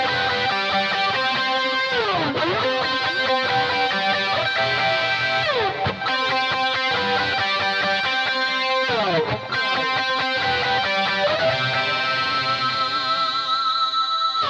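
Distorted electric guitar lead from the intro of a song, played continuously and loud with effects, repeating bending phrases over a sustained pedal note.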